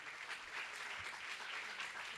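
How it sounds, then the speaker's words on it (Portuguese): Audience applause at a book fair greets a guest invited onto a stage, steady even clapping from a crowd, faint and somewhat distant, lasting a couple of seconds without talk. "Palmas para a Maíra."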